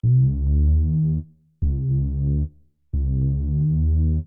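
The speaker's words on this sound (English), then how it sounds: "I got this analog lap bass and it sounds like this" Analog bass synthesizer playing a sustained, harmonically rich low bass line in three long phrases separated by short gaps, loud and alone with no voice.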